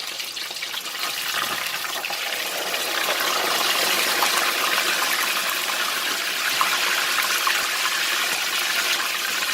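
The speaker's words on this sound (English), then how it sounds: "For this side of the fish, we'll fry it for only 7 minutes." Whole tilapia deep-frying in a pan of hot oil, a dense, steady crackling hiss that holds evenly for the full stretch with no talking.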